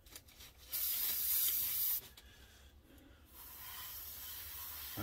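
Molotow liquid chrome paint from a refill sprayed onto a model in a steady hiss: a loud burst for over a second, a short pause, then a quieter continuous spray that runs to the end.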